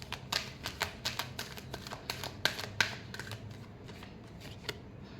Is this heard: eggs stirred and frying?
no